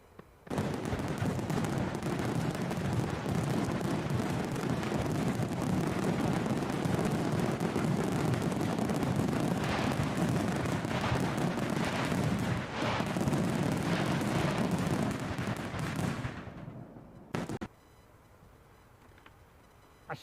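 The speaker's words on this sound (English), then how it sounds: "So let's get some fireworks up." Fireworks sound effect played over a live stream: a dense, loud barrage of crackling bursts and booms running continuously for about sixteen seconds, then fading out with a couple of final pops.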